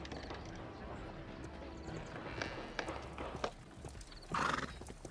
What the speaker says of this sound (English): This horse was blinded by the flag